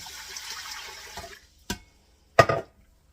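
Water for cooking lentils rushes into a pot in a home kitchen, a steady pour that fades out, then two short splashes or clunks follow in a quiet room.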